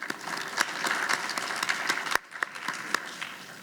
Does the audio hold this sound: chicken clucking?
no